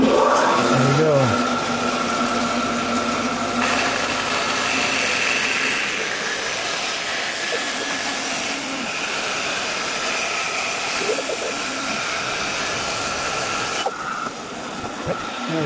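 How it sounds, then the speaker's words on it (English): A bandsaw cuts through a glued-up wooden cutting board blank with a padauk strip, giving a continuous, close motor whine and blade hum that holds steady throughout, with a brief shift in tone near the end. "we're going to put it on the bandsaw here and cut away"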